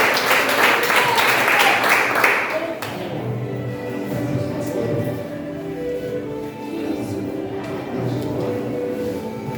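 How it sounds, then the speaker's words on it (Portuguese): A church congregation claps loudly to welcome a pastor to a garage worship service, with dense applause for about three seconds that gives way to murmuring, rustling and background tones. "Vamos recebê-lo aplaudindo o Senhor bem forte."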